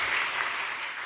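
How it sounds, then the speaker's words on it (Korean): Church congregation clapping in thanks for the worship leader at an afternoon service, a short burst of dense, bright applause from many hands, steady and full throughout. "우리 찬양 인도자를 위해서 한번 감사의 박수"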